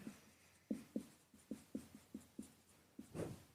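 A pen or marker taps and scratches across a board in short, regular strokes, faint and close, as chemistry examples are written out in a classroom-style lesson.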